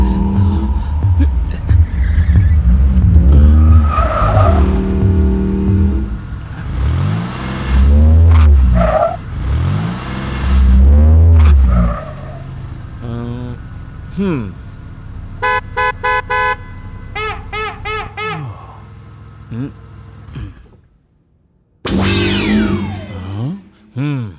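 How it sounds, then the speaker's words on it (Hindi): A car chase in a film scene, with loud revving engines and tire skids in the first half. Stuttering horn blasts and alarm-like tones follow, then a sharp rising screech near the end. "अरे ये कार मेरा पीछा क्यों कर रही है?"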